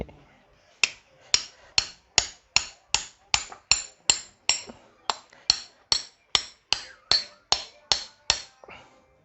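Steady hammering while driving a new shaft into a wall-mounted electric fan: about twenty sharp, evenly spaced metallic blows, close and loud, with no talk.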